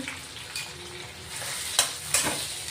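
Spice masala with sesame seeds and peanuts sautés in a pan over low heat, a quiet steady sizzle with two sharp scraping stirs of the spoon near the end, no talk.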